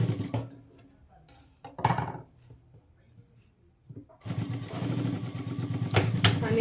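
A sewing machine double-stitches tucks on a blouse: a few short whirring bursts with quiet gaps, then a longer steady run of close, fast mechanical stitching that lasts to the end.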